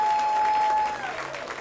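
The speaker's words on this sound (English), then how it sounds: "Please give him a big round of applause." An outdoor crowd at a Hollywood Walk of Fame star ceremony claps in a brief burst that fades after a second, with a steady tone running underneath.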